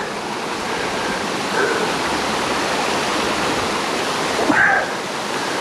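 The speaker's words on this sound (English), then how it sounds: "we're actually on top of the waterfall now, which is just down here." A waterfall roars in a steady broad rush of falling water, loud and continuous, with a faint bark briefly rising above it.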